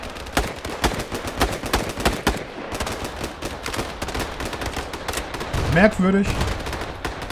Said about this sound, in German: Also wenn ich hier drauf schieße.